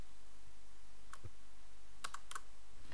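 A handful of computer keyboard keys are pressed to enter an Emacs shortcut, a few sharp, close clicks in quick pairs over a faint background hum.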